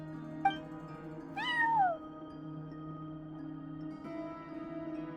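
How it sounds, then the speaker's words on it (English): A cat meows at a front desk in the video game Genshin Impact, one clear rising-falling meow after a brief chirp, heard alone over a soft steady game music drone. "cat watching over the front desk. Excuse meow?"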